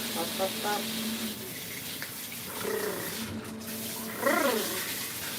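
A tap runs steadily to fill water for bathing a Maine Coon cat, an even rushing wash close by, with voices and cat vocalizations over it.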